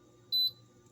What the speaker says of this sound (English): First, set up the air fryer to the setting of air fry